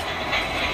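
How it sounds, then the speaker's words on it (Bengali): A toy choo-choo train runs indoors with a brief, steady mechanical whirring rumble, close by and fairly loud, without any speech. "এই যে চুচু ট্রেন কোথায় যাচ্ছে?"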